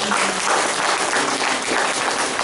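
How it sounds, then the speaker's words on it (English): Dense, steady applause from a church congregation giving praise, a continuous wash of many hands clapping at full volume that holds evenly for the whole stretch. "Give the Lord a clap of praise."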